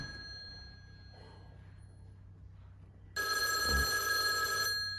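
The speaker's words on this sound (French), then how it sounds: "Ouais, le téléphone." A telephone bell ringing in an office, one loud continuous burst of ringing after a few seconds of quiet room tone.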